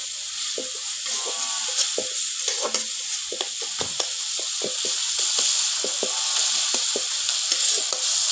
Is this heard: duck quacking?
no